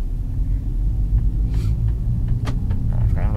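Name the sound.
Volkswagen car engine running with exhaust valve closed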